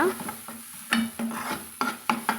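Pirandai (adamant creeper) stirred and sautéed in a little oil for a chutney: a spatula scrapes and knocks against the pan in quick, uneven strokes over a soft sizzle, close and clear, with no voices.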